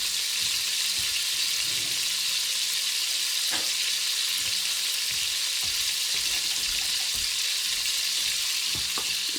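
Beef browning in a pan for boeuf bourguignon gives a steady, close, even sizzle that holds for the whole stretch, with a few soft knocks from the pan and no voices.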